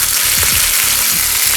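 Minced chicken frying in a pan, heard as a loud, close, constant sizzle with faint stirring scrapes underneath.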